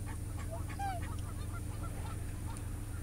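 A goose honks a few times in short, thin calls over a steady low hum, fairly close but not loud, with no voices.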